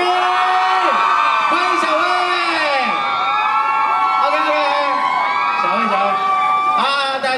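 An outdoor Christmas concert crowd in a Taipei Xinyi pedestrian courtyard whoops and screams to welcome a singer, with an amplified voice calling out over the cheering throughout and a burst of noise near the end.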